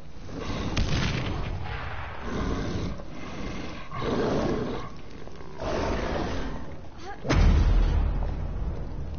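Booming blasts in the video game Dead Island Riptide, several roaring explosive surges with a sharp, heavier detonation near the end, set against rough game ambience.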